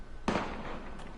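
A single sharp gunshot in the video game Valkyria Chronicles, one loud crack with a decaying tail and a fainter echo after it.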